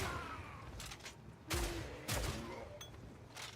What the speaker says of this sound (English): Hearing people like grunt and shoot all the time